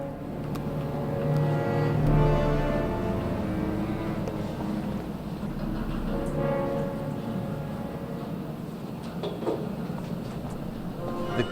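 A train travels in The Raven Remastered, giving a continuous low rumble with a rhythmic rolling clatter and a few brief tonal hums. The sound stays steady and fairly loud throughout, with no talking.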